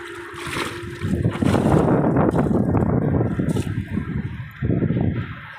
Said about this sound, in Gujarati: પવન બહુ જ આવે છે એટલે બીક લાગે છે